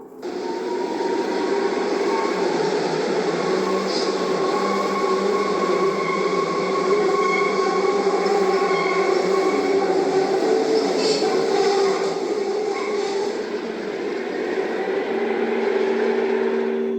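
A subway train roars steadily through a tunnel, a loud continuous rumble with metallic squeals and rattling rising over it, no pauses throughout.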